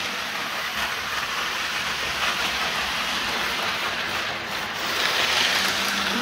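Hornby Virgin 125 HST model train running on its track, giving a continuous broad rushing whir with a faint rumble, steady and close.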